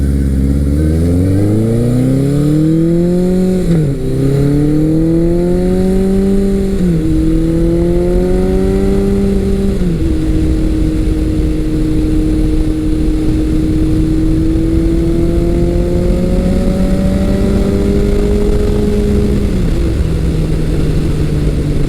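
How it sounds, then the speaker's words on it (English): Big-bore 1100cc Suzuki GS1100 motorcycle engine pulling hard from low revs, loud and close, rising in pitch through several gear shifts and then holding a steady drone. "this big 1100cc motor, I can go quickly and really be lazy with the shifting."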